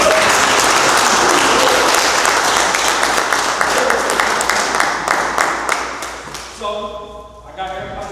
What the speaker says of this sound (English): So I got everybody to clap and all that